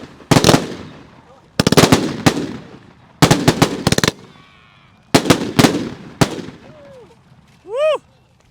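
A multi-shot firework cake at a New Year's Eve show fires rapid bursts of sharp cracks in several clustered volleys, loud and close, with crackling tails between groups and a whistling shot near the end.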